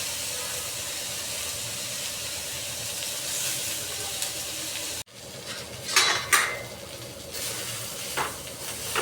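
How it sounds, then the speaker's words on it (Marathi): Rice sautéed in a pan for masala rice, a steady close sizzle with scraping and stirring clatter as a spoon works the grains against the pan, louder bursts of stirring in the second half. "नंतर त्याच्यामध्ये तांदूळ टाकून थोडे परतून घेऊया 2 ते 3 मिनिट"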